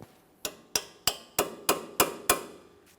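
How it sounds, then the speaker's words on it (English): Locking clip being tapped onto the front strut flex hose of a 2014-2018 Mazda 3, seven sharp, evenly spaced metallic taps at close range with brief ringing after each, then quiet. "Just go ahead and line that up with the groove on the flex hose and tap it into position."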